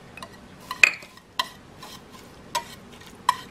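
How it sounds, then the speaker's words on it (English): Unsweetened coconut stirred into a coconut creme pie filling in a bowl, with several distinct utensil clinks and scrapes against the dish spaced out irregularly over a quiet background, close and fairly crisp. "Okay, so we're gonna stir in. A 1/4 cup of coconut."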